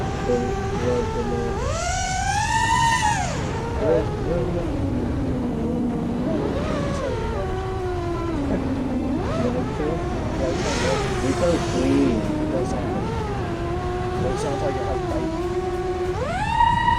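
FPV drone on an iFlight Xing Unibell motor build with an FR7 frame, diving a mountain on a long-range flight, its propellers spooling up and down in rising and falling whines, with people talking over the sound throughout.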